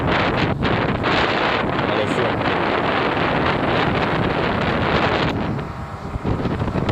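Strong wind buffets the microphone by rough water with breaking waves and a boat nearby, a loud, continuous roar that dips briefly near the end while someone speaks a few words.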